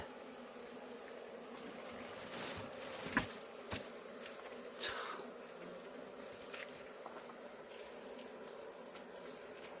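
Bees buzz around hives during a native Korean honey harvest, a faint, continuous swarm drone with a few brief louder passes of individual bees close by.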